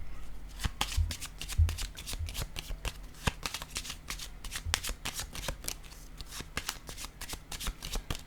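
A deck of cards is shuffled nearby before one card is drawn, giving a dense, continuous stream of rapid papery flicks and snaps at moderate volume.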